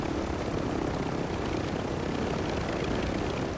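Mosquito drone in a Call of Duty match, a steady, loud buzzing engine drone that holds unchanged throughout with no voices.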